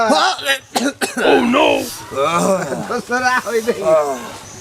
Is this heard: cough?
yes